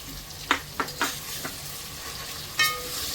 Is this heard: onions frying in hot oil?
yes